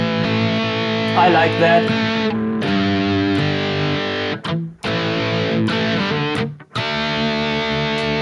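Electric guitar through a Boss GT-1000 multi-effects unit set to a vibrato effect, playing sustained, distorted chords with rich overtones; it rings loud and close for several seconds with two brief gaps, and a voice speaks briefly near the end.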